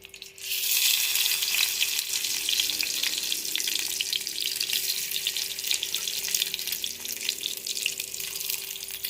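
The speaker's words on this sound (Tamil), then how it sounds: "இப்போ நம்ம கட் பண்ணி வச்சுருக்க சிக்கன் சாசேஜஸை ஒன்று ஒன்றா இதில் போட போகிறோம்." Chicken sausages drop into hot oil and fry with a loud, steady hiss and sizzle, close by and continuous, with no talking.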